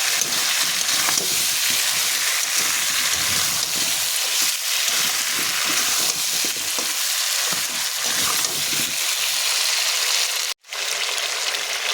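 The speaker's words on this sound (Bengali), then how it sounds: "এবার এখানে দিয়ে দেবো আমি চিড়ে রাখা কাঁচা পাকা লঙ্কা" Slit green and ripe chillies fry in hot oil for a puna fish curry with pumpkin and potato, a close, steady crackling sizzle with occasional stirring scrapes and a brief pause near the end.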